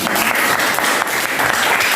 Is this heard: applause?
yes